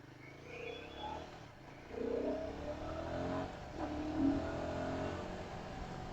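A modified KTM motorcycle accelerates, its engine note climbing in two strong surges at moderate distance, with no talking.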